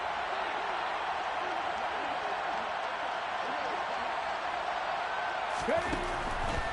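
Steady roar of a football stadium crowd at a Steelers vs Buccaneers game building ahead of a big third down, a broad continuous wash of cheering under play-by-play commentary, with a brief sharper burst near the end.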